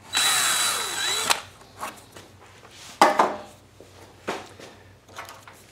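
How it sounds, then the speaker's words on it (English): A power drill bores through the plastic housing of a Predator 2000 generator, running steadily for just over a second near the mic, followed by scattered handling clicks and thumps. "When you're drilling this hole, take your time."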